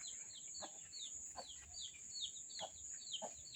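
Near a rural organic garden, a hen clucks softly while her chicks peep in quick, repeated high chirps, faint over a steady high-pitched background tone.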